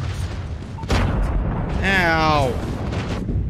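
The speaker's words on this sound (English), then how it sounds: "Enemy airstrike incoming." Enemy airstrike explosions hit in a first-person shooter, with heavy booms and rumbling blasts over continuous battle noise while a player cries out in pain.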